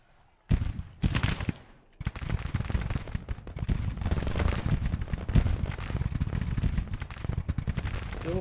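Brigade gunfire in the Civil War strategy game Grand Tactician: a couple of sharp opening reports, then a sustained crackling roll of musket volleys from massed troops.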